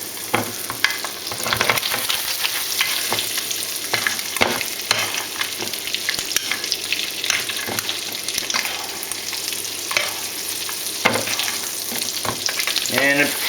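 Wild barramundi fries in oil with herbs while a spoon bastes it, giving a loud continuous sizzle broken by repeated scraping and splashing bursts from the spoon in the pan.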